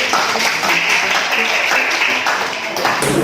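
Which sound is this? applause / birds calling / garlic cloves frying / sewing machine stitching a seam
applause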